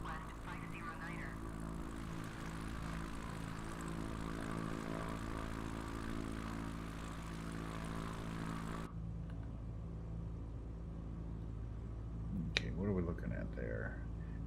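Propeller airplane engine in a flight video game, a steady droning hum with strong low harmonics that holds, then thins abruptly partway through, with a voice speaking over it.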